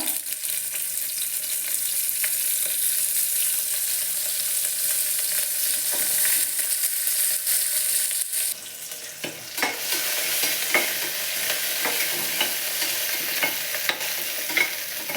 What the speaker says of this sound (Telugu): అన్నీ బాగా వేగిపోయాయి కదా